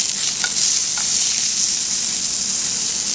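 Snapper and salmon fillets sear in a pan, producing a loud, steady hissing sizzle with a couple of brief utensil clicks near the start.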